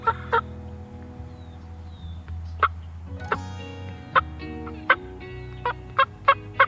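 Turkey hen clucks imitated with a turkey call ring out as short, sharp single and paired notes spaced a second or so apart, over a low background hum.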